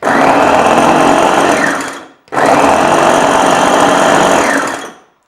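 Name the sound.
Vitek VT 7019 food chopper running at first speed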